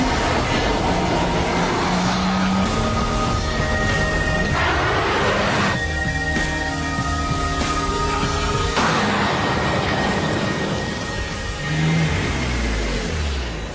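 A BMW Z4 roadster drives steadily, its engine note droning and shifting pitch with gear changes over constant road and wind noise, loud and close throughout.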